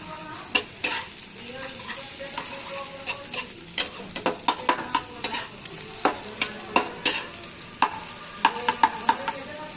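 Egg and onion frying in oil in a wok, a steady sizzle under frequent sharp scraping and tapping stir strokes, repeated in an uneven rhythm throughout, close and fairly loud.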